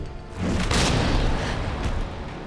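A grenade blast in Resident Evil 2 Remake, a loud deep boom that swells and rumbles on for a couple of seconds, with no talking over it.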